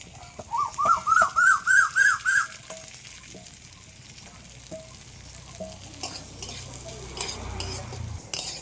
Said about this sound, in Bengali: ডালটা একটু ভালো করে ভেজে নিয়েছি